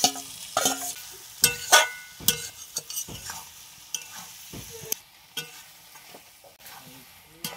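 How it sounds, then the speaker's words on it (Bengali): Potatoes, pointed gourd and prawns tossed into frying spices for a restaurant-style curry: sharp intermittent clatters and scrapes of stirring over a low sizzle, close and without talk. "মশলা কষানো হয়ে গিয়েছে, এবার আলু পটলগুলো দিয়ে দেবো, মাছটাও দিয়ে দেবো সঙ্গে।"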